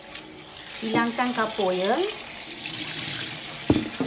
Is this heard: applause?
no